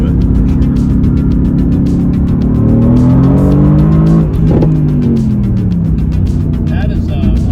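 Mercedes GT-R accelerating hard on a road, engine note climbing in rising pitch sweeps through the gears, loud and close from inside the car, with voices talking over it.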